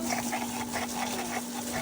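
An aging swimming pool pump runs during a backwash with a steady hum and a constant mid-pitched tone, loud and close, with no pauses.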